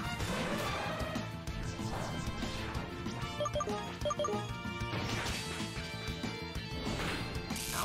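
Rock Smash attacks land in a Pokémon fan game, heard as repeated loud crashing impacts layered over continuous game music.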